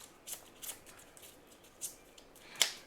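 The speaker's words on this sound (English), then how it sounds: "give it like a proper shuffle" A deck of playing cards is shuffled by hand in a few quick riffling bursts, close and crisp, ending in a sharper snap of cards, with no talking.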